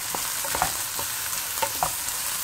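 Carrots being stirred into sweated onions in a pan produce a soft, steady sizzle with several brief scraping strokes from a utensil, close and fairly quiet.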